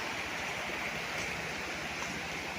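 Steady broadband rush of river water flowing beside a rural farm lot in Real, Quezon, constant and moderately distant with no voices.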